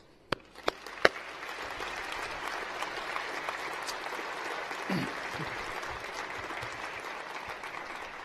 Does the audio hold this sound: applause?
yes